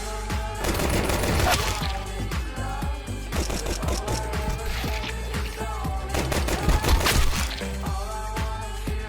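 Dense Counter-Strike 2 gunfire during a pistol round: rapid, loud, overlapping shots and impacts fill the whole stretch, layered over game effects.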